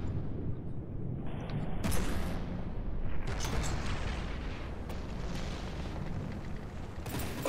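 Torpedo explosions strike a ship's hull in the naval combat game From the Depths, several heavy booming blasts rolling over a dense, rumbling roar of battle.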